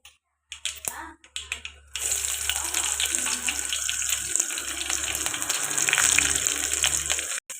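Onions drop into hot tempering oil for Andhra-style ulava charu. A few sharp pops and clatters come first, then a loud, continuous, hissing sizzle holds close to the pan for several seconds.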